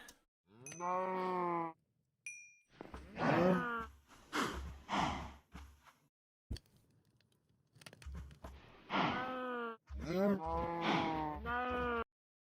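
Many cows lowing together in Minecraft, drawn-out overlapping moos and groans arriving in bursts with short gaps, fairly close and loud.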